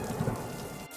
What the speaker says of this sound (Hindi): बारिश रुक रुक कर होती रही